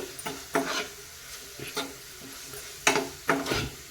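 Turmeric powder frying in hot oil in a pan for a spinach and green gram stir-fry, with several brief scraping and stirring clatters of a utensil against the pan over a faint sizzle, no talking.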